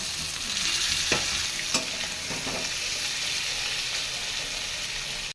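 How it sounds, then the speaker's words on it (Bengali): Boiled potatoes fry alongside fried pointed gourd in a pan, giving a continuous close sizzle with a few scraping stir strokes near the start. "আগে থেকে সিদ্ধ করে রেখেছিলাম আলুটা ওটা দিয়েও ভেজে নেব"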